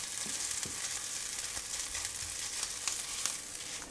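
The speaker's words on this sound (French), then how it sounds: "on fait cuire la pâte de curry pendant 1 minute" Curry paste fries in a hot pan with a dense, continuous sizzle and faint crackles, heard close and steady with no talking.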